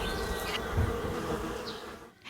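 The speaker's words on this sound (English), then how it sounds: "Buzzing." A buzzing sound effect in an audio horror story, like angry bees, hums steadily at moderate loudness. It fades toward the end as a sharp new sound begins.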